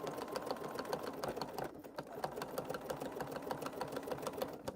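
A sewing machine runs steadily while stitching a seam on a fabric bowl, its rapid needle clatter continuous and close, with a brief slowdown partway through.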